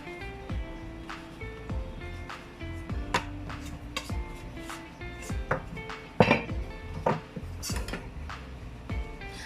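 Pastry dough for butter tarts is cut into rounds with a series of quiet, irregular taps and clinks of a cutter against the board and pan, interspersed with soft knocks.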